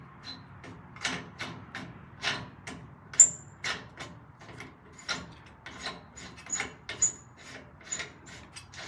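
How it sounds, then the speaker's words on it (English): A metal nut being threaded onto the eye bolt of a FrontRunner Hi-Lift jack mount, with repeated short scraping, rasping and clicking bursts in an uneven rhythm, close up and fairly quiet, plus a few sharp metallic ticks. "You guys want to watch Brandon struggle trying to put a nut on for half a minute?"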